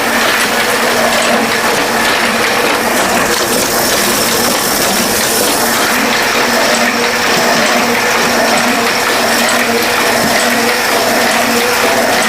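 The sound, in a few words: offset printing machine printing wedding card covers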